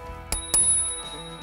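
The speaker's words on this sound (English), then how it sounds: "my favourite thing is the matching anodized spur cycle bell" An anodized Spurcycle bell mounted on a Moots Routt RSL bike is struck twice in quick succession, each clear, close ding leaving a bright lingering ring.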